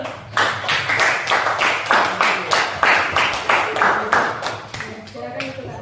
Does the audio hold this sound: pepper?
no